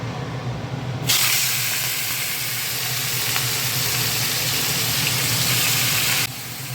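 Prawns frying in a pan break into a sudden loud, bright sizzle that holds steady for several seconds, then cuts off abruptly, close up with no talk.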